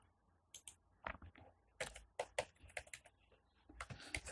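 Computer keyboard being typed on while writing Java code, a run of quick, uneven key clicks in short bursts with brief pauses, close and fairly quiet.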